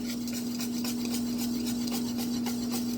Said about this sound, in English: I'm just going to whisk this in.